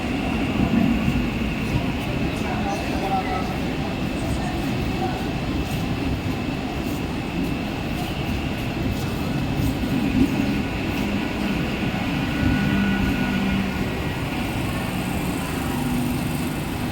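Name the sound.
Mumbai local train at railway station platform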